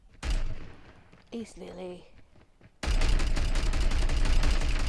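Rapid gunfire in the mobile shooter Call of Duty Mobile during a clan war match, a short burst early on, then a sustained dense barrage of shots filling the second half, with a brief spoken voice between them.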